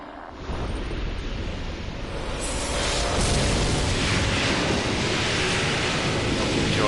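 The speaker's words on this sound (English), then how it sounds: "Enjoyed that loud sound of explosions in your ear" A big, loud explosion rumble in the Dark Souls II video game, marking the collection of a large soul, bursts in after a brief quiet start and holds as a dense, roaring wash for several seconds.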